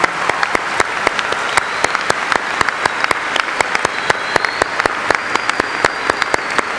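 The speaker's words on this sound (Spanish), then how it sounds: "Les damos un aplauso a ellos." Applause for altar servers at a Catholic Mass, a congregation clapping steadily with distinct sharp claps in a fairly even rhythm throughout, loud and close with no talking.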